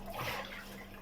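Dishes are rinsed with plain water before soaping in a home kitchen, a short burst of running, splashing water near the microphone.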